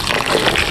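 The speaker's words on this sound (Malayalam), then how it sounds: "നമ്മളിപ്പോൾ ടാപ്പിന് ഡയറക്റ്റ് ഒഴിക്കാൻ തുടങ്ങി" Water running straight from a tap at home, poured over a bed of homemade snow, making a steady close broadband gush with a hissing splash that holds level and alone for under a second.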